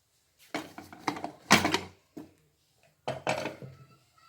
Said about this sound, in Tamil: குக்கரை இப்போ ஓப்பன் பண்ணி பார்க்கலாம்